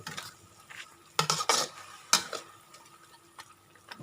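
Basil chicken being stir-fried at home in a pan, with scattered clinks and scrapes of a utensil against the pan, two louder bursts of clatter, and a faint sizzle underneath, no talking.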